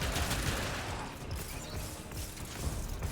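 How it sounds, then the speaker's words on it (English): Rapid gunfire from a hand weapon in the video game Warframe comes as a dense, fairly quiet burst of shots and mechanical clatter blending into a continuous rattle. "I forgot I could fire this thing way faster."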